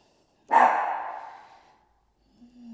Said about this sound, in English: You can enjoy a bit of barking of Milo